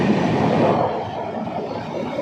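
A train rolls along its rails with a steady, close rumble and a faint clatter underneath, continuous throughout with no voices.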